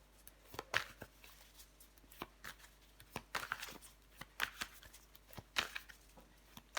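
Tarot cards are shuffled and laid out by hand: a quiet run of soft riffling flicks and light card slaps, irregular and close, with no talking.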